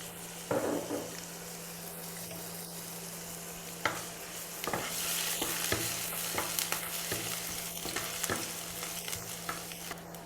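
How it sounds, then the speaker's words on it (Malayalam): Cardamom, cinnamon, finely chopped ginger and garlic, and green chillies frying in hot oil, a soft steady sizzle with occasional spoon taps and scrapes over a low background hum, no voices. "എണ്ണ ചൂടായി കഴിഞ്ഞാൽ ഏലക്ക ആൻഡ് പട്ട ഇഞ്ചി വെളുത്തുള്ളി കുനുകുനാന്ന് അരിഞ്ഞത് രണ്ട് പച്ചമുളക്"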